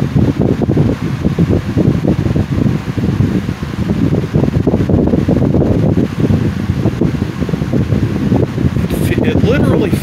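Wizard box fan running on high speed, blowing straight at a seated listener, giving a steady loud broadband whoosh of moving air throughout with slight rustling flutter.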